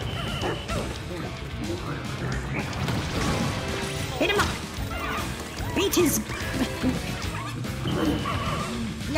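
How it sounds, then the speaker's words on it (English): Dog boss enemy in the video game Pikmin 4 barks and yips amid crashing combat effects and game music, with a player talking over much of the fight. "He's a dog. I'm literally fighting a dog."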